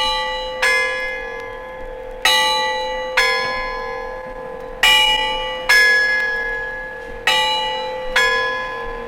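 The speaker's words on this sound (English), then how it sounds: "every quarter of an hour they strike the bells over the clock" Mechanical quarterjacks in Bristol strike clock bells one at a time, seven ringing strikes in an uneven rhythm, each blow resonating and fading before the next.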